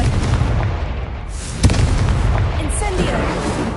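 A Confringo fire spell bursts in Hogwarts Legacy, one loud explosive boom midway through a dense, noisy rumble of game sound.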